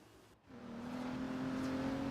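A Rolls-Royce Wraith in the racing game Forza Horizon 3 pulls away after a brief dip in sound, its engine rising into a steady, smooth drone that holds as the car drives on.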